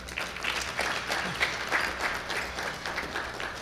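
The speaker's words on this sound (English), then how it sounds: "Would you give him a round of applause this evening?" An audience at a Somali graduation and scholarship program applauds a guest of honour, a dense, steady wash of many hands clapping at moderate distance with no talk over it.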